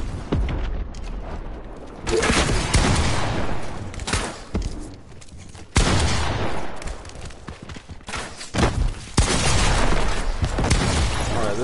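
Rapid bursts of video game gunfire from an overpowered gun in a PS4 shooter, loud and dense, in several long volleys separated by short gaps, with no talking.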